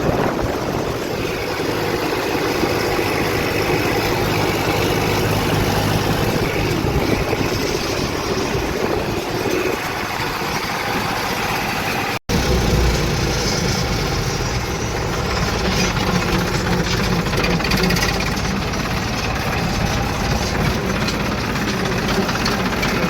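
A tractor engine runs steadily outdoors, a loud continuous diesel drone with rough knocking texture that holds throughout, with a brief dropout midway.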